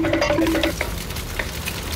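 Fried rice porridge with onion, celery and scallion is tossed and stirred in a hot pan, a steady close sizzle with faint utensil scrapes throughout, no talk.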